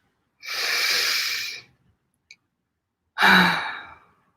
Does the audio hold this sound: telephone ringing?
no